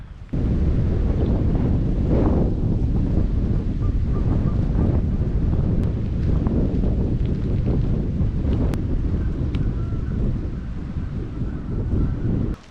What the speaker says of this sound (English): Sorry about all that wind.